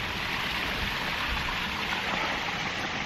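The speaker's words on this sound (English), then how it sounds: "Real nice little waterfall." A small waterfall at the first water source on the Appalachian Trail in misty, foggy weather, a steady broadband rush of falling water close by, continuous and alone without voices.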